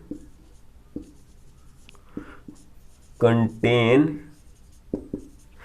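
A pen writes notes for a class 9 number system maths lesson, making soft scratchy strokes and taps spread across the clip. A voice briefly speaks between the writing strokes.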